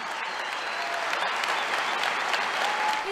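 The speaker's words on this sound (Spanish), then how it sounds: "Entre aplausos y vítores" Applause and cheering from a crowd greeting a new economy minister's arrival at the Casa Rosada in Argentina, a dense, steady roar of clapping that holds loud and even for the whole stretch.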